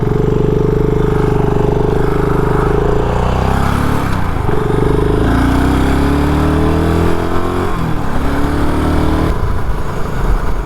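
A BSA Gold Star motorcycle rides along a main road, its single-cylinder engine droning loud and close throughout, with pitch rising and falling as the rider shifts through gears and the throttle opens and closes.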